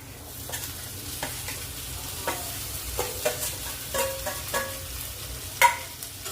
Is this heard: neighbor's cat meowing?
no